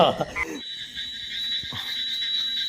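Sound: small frogs croaking

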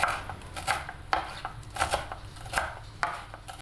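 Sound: chopping dill and parsley with a knife

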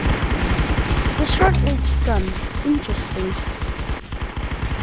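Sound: short-range gun firing in Roblox Arsenal video game

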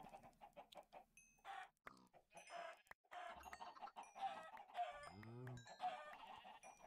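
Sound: chickens clucking in a video game (Minecraft modpack)

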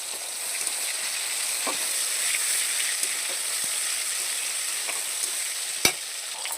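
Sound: chicken pieces frying lightly in oil

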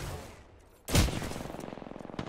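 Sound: gunfire in the video game Apex Legends

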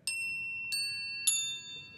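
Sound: voice imitating the NBC chimes

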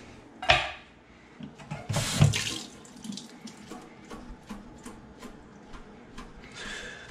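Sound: water running from kitchen tap

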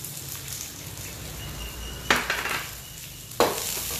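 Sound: stirring beef with onions and ginger in a pan

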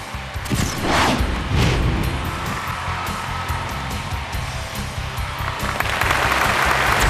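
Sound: studio audience applause

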